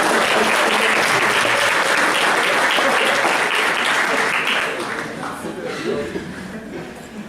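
Lecture-hall audience at an education seminar breaks into loud, dense applause mixed with laughter, sustained for several seconds before thinning and fading toward the end.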